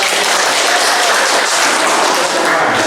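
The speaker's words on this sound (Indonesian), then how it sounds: "kita berikan aplaus untuk" A class breaks into steady, dense applause, loud and close, sustained without pause for a few seconds with no voices over it.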